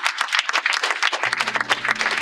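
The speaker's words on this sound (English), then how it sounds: "Can we give my man Pipe Piper a round of applause?" Close, lively applause breaks out at a trucking company gathering, with quick, uneven bursts of hands clapping. Partway through, a low, steady engine hum joins in underneath.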